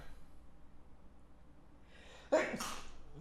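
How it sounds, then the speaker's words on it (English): A single sneeze with a quick intake of breath first, close by, then a second burst, over faint background hum. "I might have to sneeze here."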